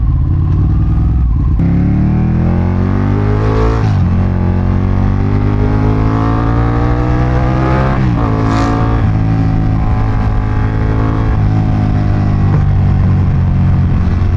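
A Ducati 959 Panigale motorcycle engine revs loudly and continuously, its pitch climbing and dropping through repeated throttle blips, close and alone with no talk.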